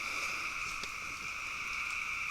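A nighttime frog chorus rises in a continuous shrill buzzing drone, steady and fairly distant, with no voices present.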